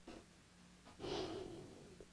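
Slow, deep inhalation during a yoga breathing exercise, heard alone and close: a faint breath at the start, then a louder, sustained airy inhale of about a second, with no talk.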